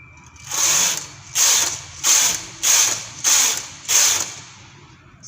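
A knitting machine carriage sweeps across six rows, each pass a loud rasping whoosh lasting about half a second, separated by brief pauses in a steady back-and-forth rhythm.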